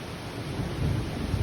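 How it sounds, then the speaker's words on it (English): Rumbling thunder rolls through steady rain during an unexpected storm, a low continuous roar that swells toward the end of this short stretch, with no voices. "Look at this unexpected storm."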